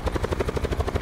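Helicopter in Call of Duty: Black Ops 4 Blackout, a steady rapid rotor thump with a low engine drone, loud and close throughout with no talk over it.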